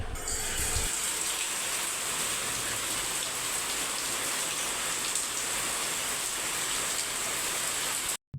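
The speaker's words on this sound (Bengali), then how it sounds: "বাইরে কত বৃষ্টি হচ্ছে দেখো" Heavy pre-dawn rain pours steadily outside, a dense continuous hiss of drops on surfaces with no break, fairly loud and close, before it cuts off at the very end.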